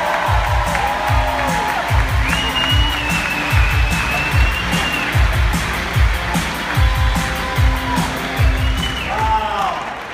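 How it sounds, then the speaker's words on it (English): A large audience stands and gives rousing applause, loud cheering and crowd roar swelling continuously, with rhythmic thumping beats of music pounding beneath and a voice calling over the noise. "I want you to stand to your feet and give a rousing applause"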